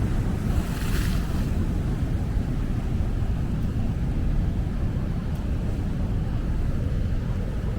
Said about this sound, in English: the waves are so bad, but can you hear it?